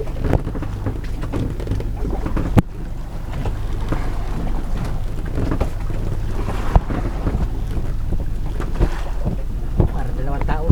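A rescue boat towing another vessel on the Pacific Ocean, its engine a steady loud drone blended with wind and water noise, with a few sharp knocks throughout.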